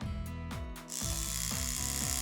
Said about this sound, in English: with the shaver, is basically just shave like the outsides